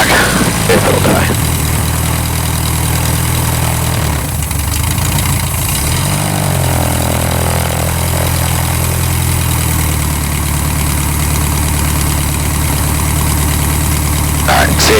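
An air-cooled VW engine idles at about 1800 RPM in a Sonex light aircraft, a steady, loud, close drone with a low hum that dips and settles partway through. It runs alone with no talk.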